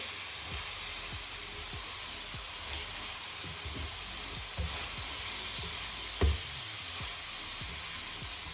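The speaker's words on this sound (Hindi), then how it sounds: "ये मैं अब डाल रही हूँ गाजरें। थोड़ा सा इसको मैं घी में भूनूंगी।" Grated carrots sizzle in hot ghee for gajar halwa, a continuous close hiss broken by faint spatula scrapes and taps, with one louder knock against the pan.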